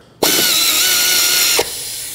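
A power tool snugs a nut on a 1999-2003 Toyota Solara engine: one loud, steady whir lasting just over a second, starting and stopping sharply, with no talk.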